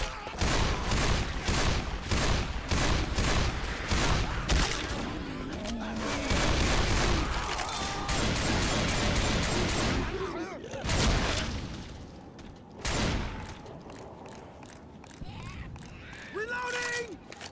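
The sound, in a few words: sniper gunfire in a video game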